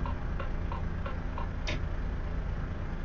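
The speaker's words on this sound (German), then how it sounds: "Bei den Blinker finde ich schön, dass es mitblinkt." Turn signal of a Volvo FH 2022 truck in Euro Truck Simulator 2 ticking in a steady, even rhythm, about five clicks over a low cab hum, with one sharper click midway.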